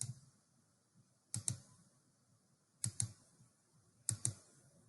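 Computer mouse clicks made while tracing the edges of a shape in Google Drawings, coming in quick double-click pairs about every one and a half seconds, close and crisp against quiet background.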